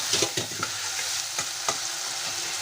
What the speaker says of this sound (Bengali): আলুগুলো একটু ফ্রাই করে নেব